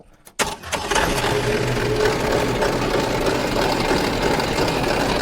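A drill press drilling machine is switched on with a click and quickly spins up into a steady, close, continuous motor hum with a rattly mechanical whir.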